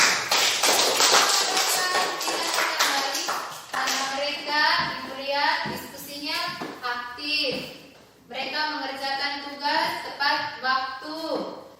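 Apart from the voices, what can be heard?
children clapping for group Dahlia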